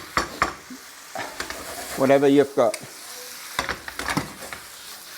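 Sweet Austrian potato noodles coated in ground poppy seeds sizzle loudly in a frying pan while being stirred and scraped around, with a brief burst of frying in the middle and a voice speaking over it.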